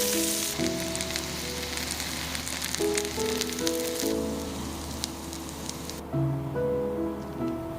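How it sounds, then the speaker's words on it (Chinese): Squid fries in hot chili oil with a dense, steady crackling sizzle like rain on a surface, under soft melodic background music that runs throughout. "来煎个鱿鱼，用油泼辣子做底油"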